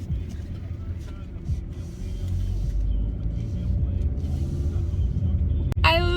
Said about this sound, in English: I'm in the car again because that's all I do apparently is drive around.